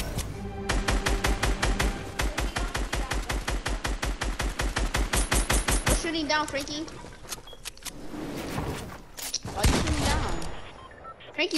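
Video game gunfire: a long rapid burst of loud automatic shots for about six seconds, followed by scattered shots, clattering and impacts, with voices talking over the action.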